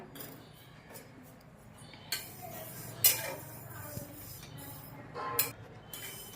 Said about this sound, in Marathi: आता आपण तीळ भाजून घेऊया।